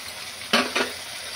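Chili, garlic and ginger pastes with coriander and cumin powder hit a hot pan for Bengali mutton kosha, giving two quick loud bursts of sizzle over a low steady frying hiss.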